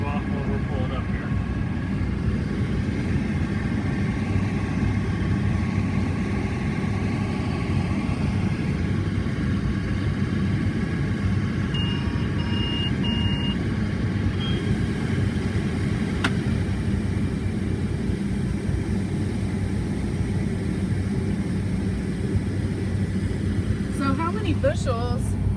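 Combine harvester engine drones steadily and loud at close range during wheat harvest in Rooks County, Kansas, as the grain auger swings out to unload into a grain cart, with a continuous low mechanical rumble throughout.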